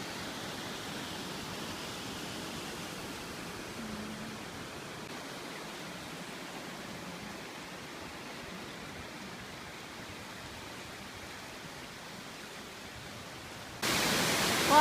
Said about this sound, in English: Climbing up, waterfall all around me.